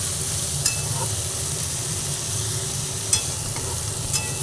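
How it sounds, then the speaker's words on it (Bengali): Eggplant pieces frying in oil over a lowered flame make a steady, close sizzle, broken by a few light scrapes and taps of a spatula as they are stirred; no one speaks. "বেগুনগুলো এবার নরম করে ভেজে নিচ্ছি নাড়াচাড়া করতে করতে"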